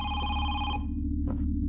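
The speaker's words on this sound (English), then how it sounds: "I hate ringing phones" An old-style telephone bell rings loudly in the video game Home Sweet Home, a sustained metallic trill that cuts off abruptly and leaves a low, droning ambient hum.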